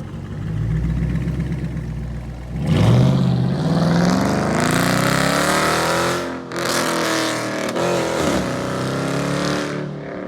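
Dodge Charger Scat Pack and Charger R/T exhausts revving, a loud deep engine roar that climbs in pitch through several throttle blips with brief drops between, close by.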